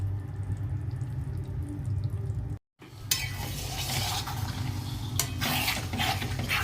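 Bone-in chicken being sautéed in a pan gives a steady close sizzle with stirring scrapes, a brief total dropout midway, then the sizzling resumes with brighter bursts of frying.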